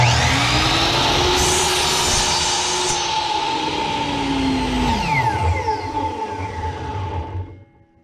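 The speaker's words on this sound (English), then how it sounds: "I'm going to go ahead and cut my first angle on the very first rafter" Power saw cutting an angle on a wooden rafter while building a small shed, a loud steady whine that holds for several seconds, then drops in pitch as the blade slows and cuts out near the end.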